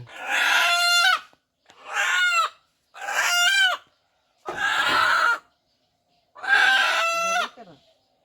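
Chickens call loudly and close by in five long, harsh, harmonic bursts separated by short silences, sounding almost like drawn-out crowing.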